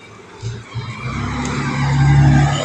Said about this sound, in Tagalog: Dagko kay truck guys oh.